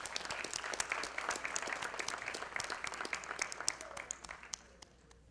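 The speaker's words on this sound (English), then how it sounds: "Let's just give all of the award winners one last round of applause." Applause from an awards ceremony audience honoring award winners, a steady mass of dense clapping sustained for several seconds before thinning out and fading near the end.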